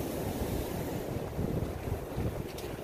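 Surf breaking on a beach while walking along the shore, with steady wind buffeting the microphone throughout; a continuous, fairly close wash of waves and gusts with no voices.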